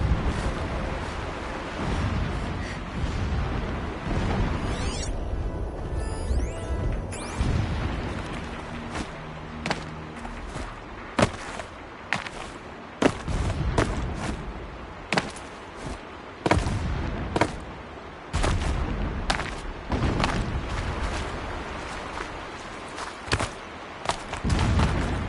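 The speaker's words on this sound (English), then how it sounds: "Explosions in the distance." Repeated booming explosions in Horizon Zero Dawn, some heavy and close, others duller and farther off, scattered irregularly over a rumbling background.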